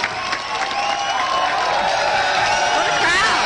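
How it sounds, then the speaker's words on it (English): Large crowd cheering, whooping and clapping loudly at Ron Paul's speech at the College of Charleston, a dense continuous roar with shrill whistles and shouts rising near the end. "What a crowd."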